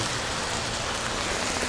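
A pan of soy protein sizzles steadily after water is poured in, giving a dense, even hiss like rain that stays close and constant throughout.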